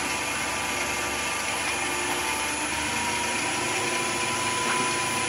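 A wood lathe spins a timber blank for a spinning top at fairly high speed, giving a steady, continuous motor hum and whirr with a faint vibrating drone that holds even throughout, with no talking.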